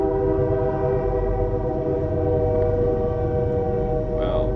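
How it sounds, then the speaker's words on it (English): Steady sustained train horn, a loud droning multi-tone blast that continues unbroken across the whole stretch, with a brief faint voice near the end. "Sorry for the train."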